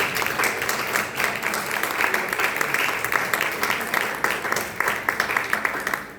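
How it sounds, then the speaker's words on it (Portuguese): A church congregation claps together in praise of Jesus during an evening service, a sustained, moderately loud roll of many hands with a slightly pulsing rhythm throughout. "dá uma linda salva de palmas para o Senhor Jesus"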